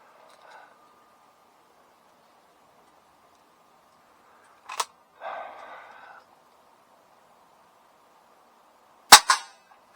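A CO2 pellet handgun fires at a target stand outdoors, giving a few sharp, isolated cracks spaced seconds apart against near silence, with a short breathy burst between shots.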